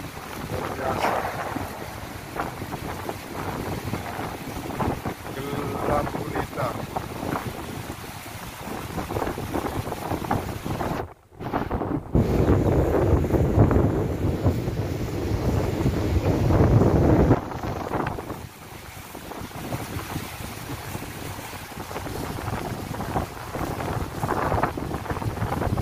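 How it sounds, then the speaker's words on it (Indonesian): Strong wind during a heavy November rainstorm in Jeddah, Saudi Arabia, roars steadily and buffets the microphone in continuous gusts throughout, with a brief dropout near the middle. "Angin teman-teman. Luar biasa."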